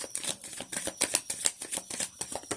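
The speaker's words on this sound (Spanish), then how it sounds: "ahora vamos a barajar con el tarot de Osho las cartas" Osho tarot cards being shuffled, a quick run of soft crisp riffles and flicks at close range, steady and rhythmic with no voices.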